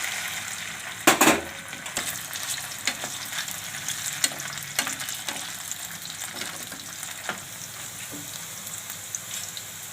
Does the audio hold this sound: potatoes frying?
yes